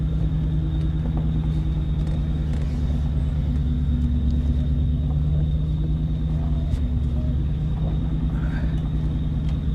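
A 1997 Ford Mustang GT with a five-speed, bought not running, idles steadily nearby, a continuous low engine rumble with a faint constant whine above it and no talk.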